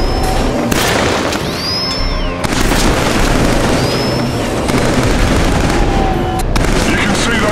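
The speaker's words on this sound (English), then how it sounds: "Switch back to your rifle. Shooting those far targets in the range." Rifle shots fired at distant range targets in Killzone 3 ring out as loud, sharp cracks at irregular intervals, mixed with whizzing and booming game effects throughout.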